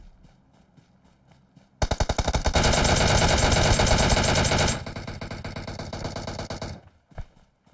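Sustained automatic gunfire in PUBG Mobile on the Erangel map, a loud dense burst of rapid shots lasting about three seconds, tapering into echoing fire, with a single later shot and quieter ambient game sounds before and after.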